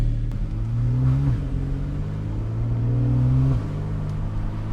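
A Porsche 991 Carrera C4S engine pulls hard while driving, a steady rising drone climbing through the revs twice with a brief drop between, heard from inside the car with no talk.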